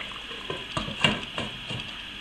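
Rabbit legs simmering in a white wine sauce give a steady faint bubbling sizzle, with a few soft clicks and pops from the pot close by and no voices.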